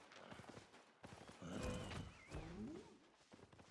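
A horse in the Albion Online video game whinnies loudly while its hooves clip-clop through the fight, with busy game effects layered over it.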